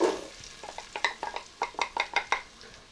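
Chopped onion tossed into melted butter in a soup pot over medium heat, heard as a run of close, sharp spoon-on-pot knocks and scrapes over a soft, low sizzle, with no talking.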